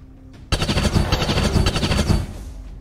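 Loud automatic gunfire from XCOM 2 erupts after a brief quiet lead-in, a dense, continuous burst of rapid shots that stays close and booming through the rest of the clip with no talking.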